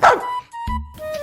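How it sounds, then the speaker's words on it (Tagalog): Noisy dogs in an animation let out a sharp, loud yip followed by a short whimpering bark, close and alone over a brief moment. "Abay, putik tong mga aso na to Sobrang ingay."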